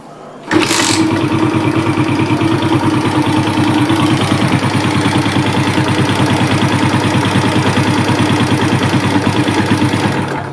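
A Suzuki Smash motorcycle engine fires up and keeps running loud and close for about ten seconds with a rough, pulsing beat, struggling to hold a steady idle.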